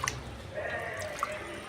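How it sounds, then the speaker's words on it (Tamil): Water drips and trickles softly as cut pieces of Kendai fish are rinsed and rubbed clean at home, with a few small splashes standing out against a quiet background. "தண்ணியை ஊற்றிட்டு இது மாதிரி நல்லா அலசி இது மாதிரி தேய்ச்சி எடுத்துக்கணும்"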